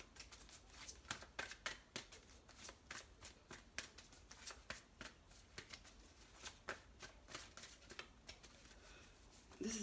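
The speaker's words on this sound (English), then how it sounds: "Why can't I shuffle today?" Tarot cards are shuffled repeatedly up close, bursts of crisp riffling and flicking in an uneven rhythm, fairly quiet throughout.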